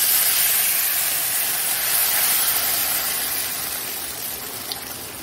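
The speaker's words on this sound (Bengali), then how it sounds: "আমাদের জল দিয়ে দিচ্ছি" Water hits a pan of frying mustard paste with salt, nigella seeds and dried red chillies for a Bengali fish curry. A loud, steady rush of hissing steam slowly eases off, with no voices.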